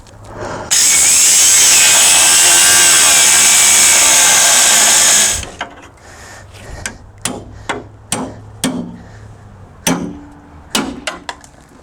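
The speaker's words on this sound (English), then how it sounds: "I'm gonna try my original plan, which is just cutting wheel right down in between the mount and the subframe" A cutting wheel grinds down between a worn front subframe mount and the subframe on an R53 Mini Cooper S, screaming loudly for about five seconds, then stopping and giving way to a string of sharp metallic taps and knocks.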